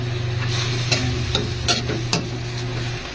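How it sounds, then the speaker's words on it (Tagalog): Chicken adobo is stirred in a pan, with a soft sizzle running underneath and four or five sharp utensil clacks against the pan at uneven intervals, close by and with no voices. "Tapos haluin natin."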